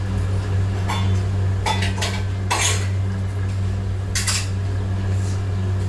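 Cumin and onions go into a hot pan for vegetable fried rice, with short rustles and metal clinks of utensils, over a constant low fan hum.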